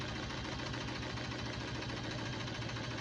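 An embroidery machine stitches appliqué tackle twill with a fast, even mechanical chatter that runs steadily throughout at low level.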